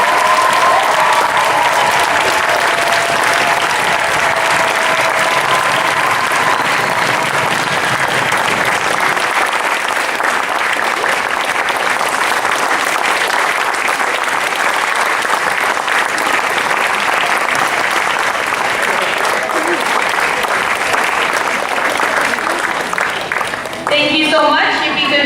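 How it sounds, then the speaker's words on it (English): An audience at a school sports recognition night gives sustained loud applause, steady clapping filling the room for about twenty-five seconds with a few voices mixed in. "So one more big round of applause for Ms."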